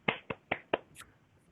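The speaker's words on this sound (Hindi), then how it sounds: "ये मैं सबकी ओर से ताली बजा रहा हूँ" One person clapping alone, four sharp separate claps in quick even succession, close and dry, followed by a brief faint sound and then quiet.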